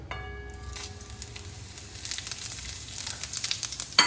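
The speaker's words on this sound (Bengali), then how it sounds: "ভাজার তেলে আমি ফোড়ন দিয়ে নেব" Whole spices (bay leaf, cloves, cardamom, cinnamon and cumin seeds) sizzling in frying oil, a soft, steady hiss with light crackles that grows slightly louder and ends with a sharp clink.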